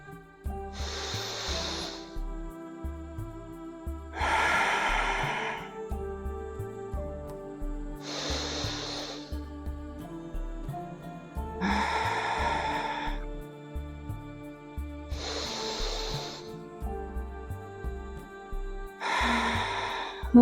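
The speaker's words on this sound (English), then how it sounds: "let's take 4 breaths together" Deep, slow yoga breaths alternate in and out about six times, each a soft airy hiss lasting a second or two, close to the microphone over a quiet sustained musical backdrop.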